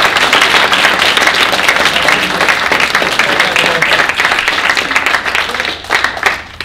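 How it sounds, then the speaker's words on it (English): Loud, close applause for guest artists at a comic convention panel, dense steady clapping that thins out toward the end. "So if you guys could just applaud them"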